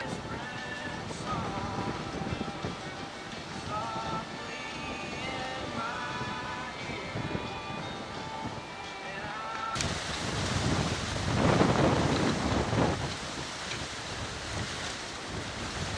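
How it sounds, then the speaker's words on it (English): Ocean surf at Myrtle Beach on a windy Christmas day, a steady wash of waves with wind buffeting the microphone, a louder gust swelling near the end; faint tonal sounds drift through the first half. "That's the ocean out there."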